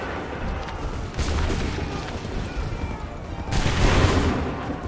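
Musket volleys in the Assassin's Creed 3 video game, dense rolling bursts of many shots fired together, with a loud crackling volley early and a second, stronger one near the end amid battlefield noise.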